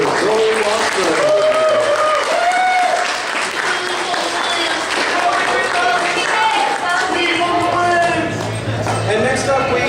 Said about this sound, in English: one more round of applause for Zoe Mossberg